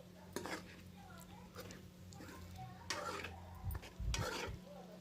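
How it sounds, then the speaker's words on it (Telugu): Goat tripe curry frying in oil, village style: a close, low sizzle with repeated stirring scrapes and clinks of a spoon in the pan, some louder bursts, and a voice faintly talking underneath. "ఇలాగే ఆయిల్లో అయితే మంచిగా ఫ్రై అవ్వాలండి"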